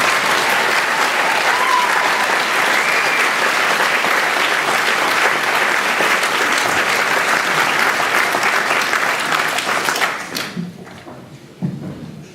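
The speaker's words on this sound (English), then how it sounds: "A round of applause, please, for Jo Beth Elliott" Loud, dense audience applause at a 2012 school prizegiving at Harris Academy, sustained for about ten seconds before quickly dying away to a few stray claps and thuds.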